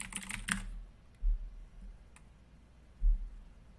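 A computer keyboard is typed on, with a quick cluster of close keystrokes at the start followed by a few sparse, isolated clicks and low thumps in a quiet room.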